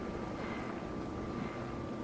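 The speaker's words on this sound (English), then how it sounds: "Is that a helicopter? Where is it?" A helicopter flies somewhere in a Fortnite match, a faint, steady rotor and engine whir heard alone for a moment.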